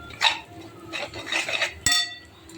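A spoon stirs an eggplant dish seasoned with red chili powder in a metal pan, giving a few close scraping and clinking strokes over a short stretch without any voices.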